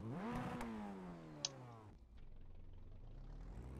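Race car engine in a racing video game sweeps up in pitch and then winds down in a long falling tone, followed by a low steady rumble, faint overall.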